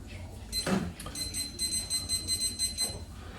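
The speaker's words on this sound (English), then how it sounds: "I'm going to set the timer for 10 minutes" A run of short electronic beeps from a timer being set, repeated in a quick rhythm at close range, with a brief clatter near the start.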